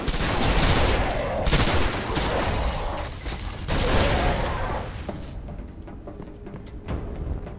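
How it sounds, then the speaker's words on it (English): Loud, dense burst of explosive blasts and rapid gunfire-like crackle during a firefight on Venus in the sci-fi shooter Destiny, a grenade going off amid the chaos, with booming impacts recurring before the din thins out near the end. "Oh, that grenade worked well."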